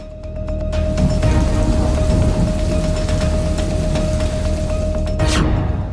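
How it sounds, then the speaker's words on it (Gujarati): Heavy unseasonal downpour over Gujarat, a dense, steady roar of rain lasting throughout at high loudness, with a brief higher whoosh near the end. "ચોતરફ માત્ર વરસાદ જ વરસાદ"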